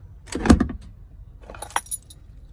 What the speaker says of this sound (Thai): มีพวงกุญแจ